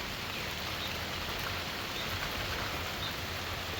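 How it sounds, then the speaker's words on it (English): Heavy rain pours down at a pigeon loft during a racing bird derby, a steady, dense hiss of falling water with no talking heard. "it's coming down pretty heavy now, guys"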